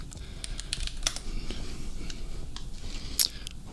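Typing on a computer keyboard produces a run of crisp, irregular clicks at moderate loudness over low background noise, with one sharper clack near the end and no talking.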